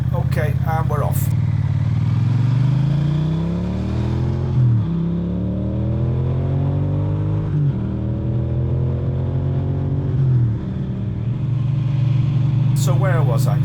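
A motorcycle engine idles, then revs through several rising gear pulls as it rides off from a junction onto a main road, loud and close, with someone talking over the start and end.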